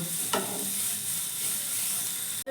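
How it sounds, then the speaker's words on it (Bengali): Ginger and grated carrot with a pinch of salt are stirred and fried in oil: an even, close sizzle with one scraping stir near the start and a brief clatter at the end. "মিশিয়ে একটু ভেজে নিব"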